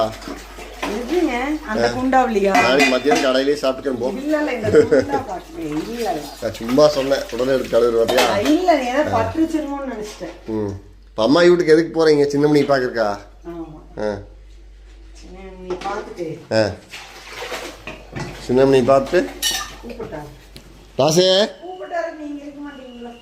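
Dishes, pots and cutlery clatter and clink repeatedly as they are washed, while a person talks loudly over the noise throughout.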